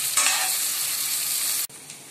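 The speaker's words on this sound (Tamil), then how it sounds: "நம்ம இப்போ தேங்காவை போட்டு வதக்கிக்கலாம்." Grated coconut and curry leaves sauté in a pan for Tamil mutton kuzhambu, a loud hissing sizzle with stirring that cuts off abruptly near the end, leaving a quieter fizz.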